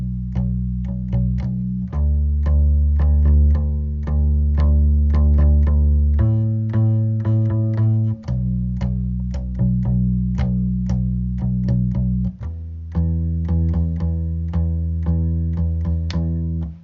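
Bass guitar holding steady quarter-note roots through the bridge of a song, loud and full, changing pitch every couple of seconds, played alone without talking.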